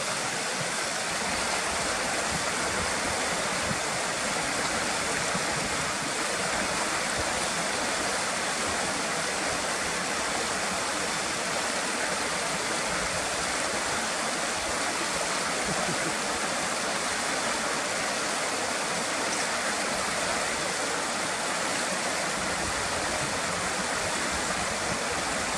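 River water rushes steadily over rocks, a loud, constant broadband roar with no pauses.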